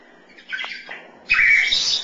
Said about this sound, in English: Good bird.